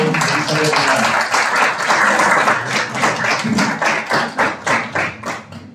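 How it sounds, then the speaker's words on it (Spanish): An audience applauds at a literary event welcoming a guest of honor, a dense burst of clapping that thins into scattered claps as it fades, heard close and loud. "Con el aplauso damos a ustedes la presencia de nuestra invitada de honor, Elizabeth Morales."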